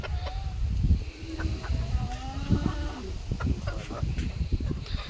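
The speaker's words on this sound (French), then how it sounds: "le coq Yokohama" Yokohama chickens in an aviary give short, scattered clucks over a busy, rumbling outdoor background, with a brief spoken word.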